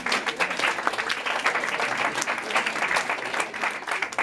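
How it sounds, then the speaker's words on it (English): An audience applauds students after school oral English presentations at an interschool event, with dense, steady clapping that holds loud throughout. "Give them an applause."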